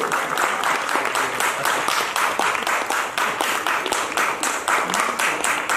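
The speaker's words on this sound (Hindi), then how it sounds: "ये लम्हा, ये पल आपकी तालियों का गवाह बनना चाहिए मेरे भाइयों" A loud, dense round of audience applause at an award ceremony, many hands clapping steadily and close for several seconds with no voices over it.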